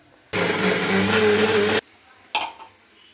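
A mixer grinder coarsely grinding green chillies and cumin, one loud continuous whirring burst of about a second and a half, then a short clatter afterward.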